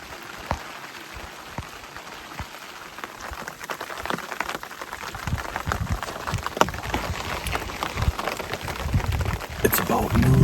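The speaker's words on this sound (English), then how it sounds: "It's still raining pretty good" Steady rain falling outdoors at a deer camp, a dense pattering hiss with scattered louder drips that grows gradually heavier and closer toward the end.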